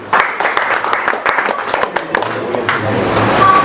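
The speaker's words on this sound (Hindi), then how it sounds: "चलिए अबुल फजल के लिए तालियां हो जाए" A crowd at a library inauguration in Kishanganj claps for a young student, a bright, ragged burst of applause that goes on for several seconds at close range, with voices faintly audible beneath it.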